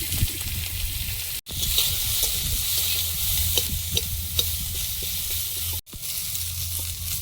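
Garlic, green chillies and chopped onion frying in a pan, a steady close sizzle with frequent stirring scrapes, broken by two brief cuts to silence.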